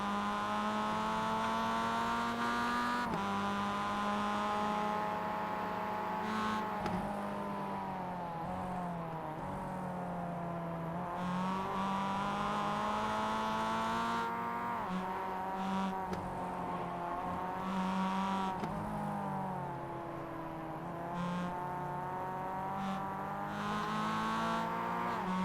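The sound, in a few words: Mazda MX-5 race cars racing at Summit Point Jefferson circuit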